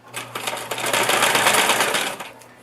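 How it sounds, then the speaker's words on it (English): Sewing machine running a narrow zigzag stitch over elastic for a kaftan top, a close, rapid mechanical whirring that speeds up and holds steady before tapering off, with no talk. "you're going to pull it as you sew"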